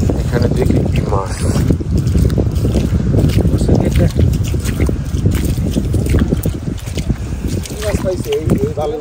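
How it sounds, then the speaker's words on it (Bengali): A small wooden dinghy moves along a waterway deep in the Sundarbans, with steady water wash and wind buffeting the microphone throughout, close and fairly loud. "আমরা নৌকাতে যাচ্ছি। এই যে এটা কি নৌকা বলে? ডিঙি নৌকা।"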